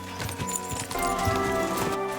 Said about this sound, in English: I'm not gonna make you watch this horse ride.